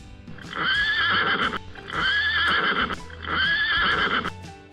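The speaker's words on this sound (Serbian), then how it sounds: "Konj." A horse neighs three times in a row. Each whinny is loud and close, with short pauses between them.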